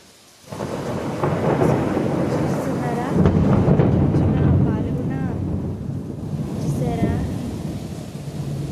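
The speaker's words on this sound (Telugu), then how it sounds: "ఖమ్మంలో చూసారే ఒకేసారి ఉరుములు" Heavy rain hisses steadily at night in Khammam while deep thunder rumbles and rolls, swelling loudly in the middle; a voice speaks briefly over the storm.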